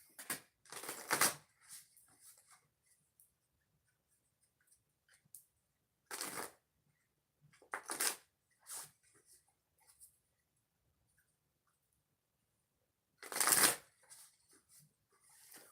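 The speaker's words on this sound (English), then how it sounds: "I'm going to do 3 shuffles and then we'll get started." A deck of oracle cards is shuffled by hand in several short, crisp riffling bursts separated by quiet pauses, close and alone in a hushed room.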